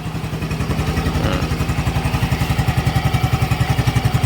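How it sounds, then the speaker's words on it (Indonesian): A Yamaha Fazzio Hybrid scooter engine runs close by with a steady, even, fast putter, moderately loud and heard alone. "Nah, ini dia suara mesinnya ya."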